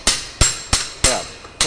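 A big spanner works loose a heat-tightened mold on a paper cup making machine, giving five sharp metallic clanks at irregular intervals, close and loud, each ringing briefly.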